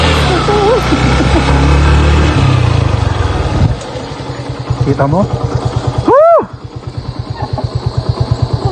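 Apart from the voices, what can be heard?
engine knocking sound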